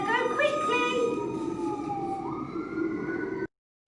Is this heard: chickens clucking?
no